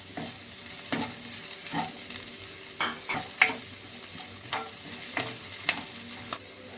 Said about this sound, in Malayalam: ഉള്ളി ഒന്ന് വഴന്നപ്പോൾ നമുക്ക് പച്ചമുളക് അതിനകത്തേക്ക് ഇട്ട് കൊടുക്കാം. കൂട്ടത്തിൽ നമുക്ക് കരിയാപ്പിലയും ഇട്ട് കൊടുക്കാം.